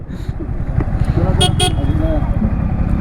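Motorcycle engine running steadily on a hill ride in the Dandoba Hills near Sangli, with a continuous drone, a quick horn-like toot near the middle and people talking over the ride.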